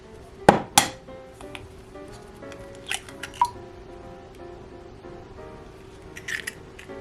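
An egg is cracked against a Christmas mug serving as a small mixing bowl: two sharp knocks of shell on ceramic, followed by a few lighter clinks in a quiet kitchen.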